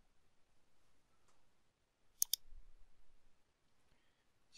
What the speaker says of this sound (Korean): 스피커를 마우스 오른쪽 버튼 볼륨 믹서 열기를 누르고